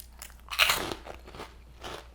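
Someone bites into microwaved shrimp chips with dried crab, close crisp crunches followed by a few softer chewing crackles, with no talking.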